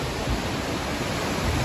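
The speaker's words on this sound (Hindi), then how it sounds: "झरने का अलौकिक दृश्य।" Steady, full roar of a waterfall at Kalpeshwar, the fifth of the Panch Kedar temples in the Chamoli hills, with pilgrims bathing below; a dense, even rush of falling water holds at the same level throughout, with no voices over it.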